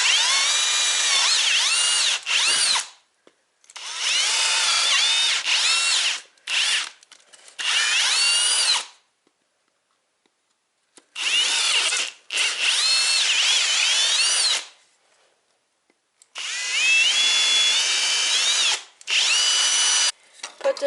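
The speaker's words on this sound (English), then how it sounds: "Got this piece of 2x4, fits perfect. Drill a few holes in it." A power drill bores holes into a piece of 2x4 wood in several loud bursts, each whine rising and falling in pitch as the bit works through, separated by short silences.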